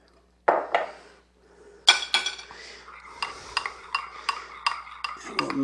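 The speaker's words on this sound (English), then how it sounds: "And we'll mix them together." Macerated strawberries and lemon stirred together in a bowl, giving repeated close clinks and scrapes of a utensil against the dish in an uneven rhythm after a couple of louder knocks.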